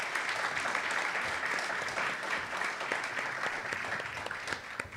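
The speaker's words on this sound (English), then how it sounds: "So a round of applause for our moderators tonight." An audience at a 2nd Ward aldermanic runoff forum in Chicago applauds the debate moderators, a steady wash of clapping that holds at an even, moderate level throughout.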